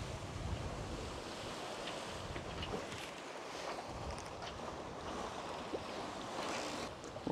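Sea waves wash and wind rushes around a Catana 50 catamaran under sail between Gibraltar and the Canary Islands, a constant broad surf hiss with gusting wind buffeting the microphone and no voices.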